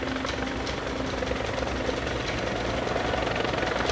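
A military helicopter capable of about 300 km/h flies with a continuous, loud rotor throb and engine roar that stays steady throughout, with no voices.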